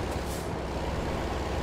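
A truck's air brakes hiss in a loud, continuous burst in traffic in American Truck Simulator, with no one talking.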